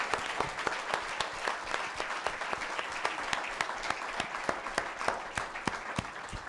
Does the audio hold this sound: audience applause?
yes